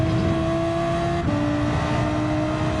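Race car engine in a racing video game holding a steady high-pitched drone, briefly dipping mid-clip as the pitch shifts, loud and continuous.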